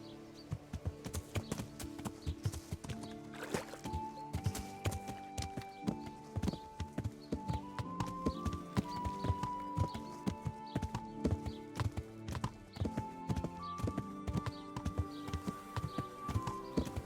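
Horse hooves clip-clop in a steady walking rhythm in the medieval game Kingdom Come: Deliverance, close and clear, over soft melodic background music with no talk.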